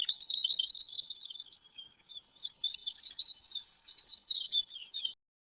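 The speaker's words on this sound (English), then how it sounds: "birds sang sweet songs outside the window" Birds sing outside a window in the morning, a steady stream of bright, high chirps and trills that continues throughout without pause.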